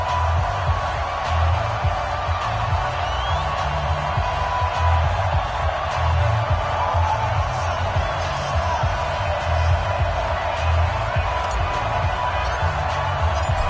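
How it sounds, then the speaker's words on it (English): A dense, steady roar of a sellout stadium crowd in a PS4 NFL football game broadcast, Falcons versus Saints, with rhythmic low thumping beneath the constant cheering and a commentator talking over it. "Somehow this place got even louder a short time ago as the Falcons were introduced to this sellout crowd."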